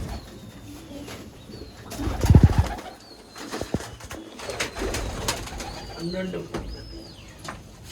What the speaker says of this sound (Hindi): ये देख रहे हो, इनमें भाई एक से एक एंटीक कबूतर है।